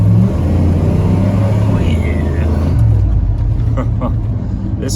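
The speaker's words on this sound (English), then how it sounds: "This truck still runs pretty good. It probably does need a rebuild, as it sounds like it might have a misfire" A newly bought truck that may have a misfire pulls away on its first drive, its engine droning and rumbling loud and close as it accelerates, with a brief exclaimed voice over it.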